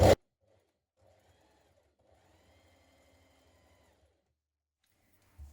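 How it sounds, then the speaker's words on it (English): Sewing machine zigzag-stitching around the inside of a gymnastics leotard seam, a faint, soft, steady whirring run of stitches bracketed by sharp clicks at the start and end. "Now I'm going to zigzag around that seam on the inside."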